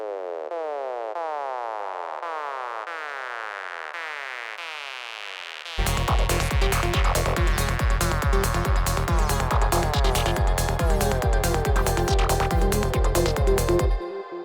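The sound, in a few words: psytrance synth squelches in sequence made with Phase Plant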